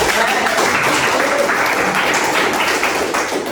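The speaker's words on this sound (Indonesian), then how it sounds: "Sekarang berikan aplaus untuk kelompok 1." Applause for a student presentation group in a classroom, steady dense clapping from many hands sustained throughout, fairly loud and close, with no talk over it.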